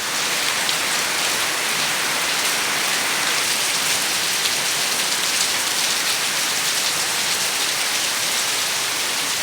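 Torrential rain darkens Bhogoi Bazar, Nather Petua Union, Monoharganj, its thick, even hiss of drops on nearby surfaces holding steady and loud for the whole stretch, with no talk.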